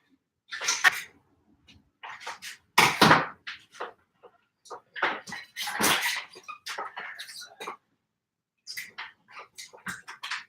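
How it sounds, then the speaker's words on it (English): Repeated wet sniffles and short nasal snorts, close up, in irregular bursts with brief pauses between, no talking. "battling some sniffles, so hope you don't mind the sniffling a whole lot."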